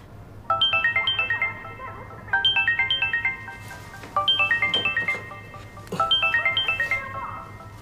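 A phone ringtone plays during an outgoing call, a bright repeating melodic phrase that sounds four times at steady intervals, close and clear over a low steady hum, with no talking.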